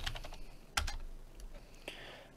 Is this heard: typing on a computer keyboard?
yes